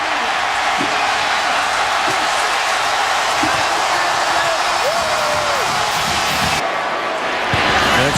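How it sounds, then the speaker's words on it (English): A college football stadium crowd roars after a touchdown in a loud, sustained wall of cheering, with scattered shouts rising over the constant noise. "Incredible crowd noise here."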